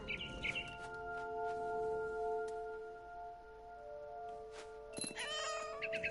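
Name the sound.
cat meowing in video game What Remains of Edith Finch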